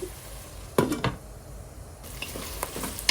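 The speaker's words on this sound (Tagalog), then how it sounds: "Gisa po natin siya para hindi po malansa." Shrimp being sautéed for pinakbet in a home kitchen pan, with a soft steady sizzle and a few sharp clatters and scrapes as the pieces are stirred, close and moderately loud.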